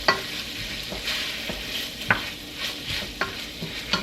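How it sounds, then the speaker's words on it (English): Chopped onion stirred into drained ground meat in a hot pan for taco soup, with a soft sizzle and repeated scraping spoon strokes at an uneven rhythm, close and fairly quiet. "I'm going to stir those together."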